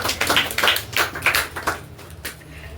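Applause for students at a Class 10 success celebration, honoured with chocolates at a topper awards event, heard as a loud, dense burst of many hands clapping that swells and ebbs over a few seconds with no talk on top.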